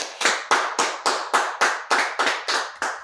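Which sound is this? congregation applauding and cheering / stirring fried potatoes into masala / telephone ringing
congregation applauding and cheering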